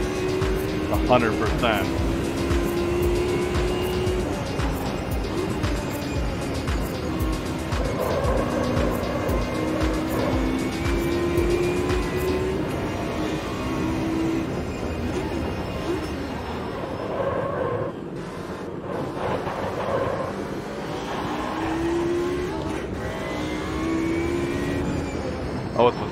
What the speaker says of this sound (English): we're going to do one lap at Brands Hatch in the DTM car